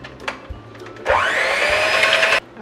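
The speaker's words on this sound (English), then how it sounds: "we are going to whisk this until it is starting to thicken" An electric hand mixer whips heavy cream in a bowl for a sustained whirring run of just over a second, with quieter kitchen clatter before and after.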